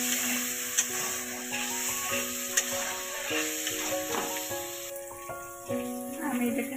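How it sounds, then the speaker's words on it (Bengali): Chickpeas fry lightly in oil in a pan, giving a soft, steady sizzle with occasional stirring scrapes; background music plays throughout, fairly quiet and close. "আমি এটাকে হালকা করে ভেজে নিলাম"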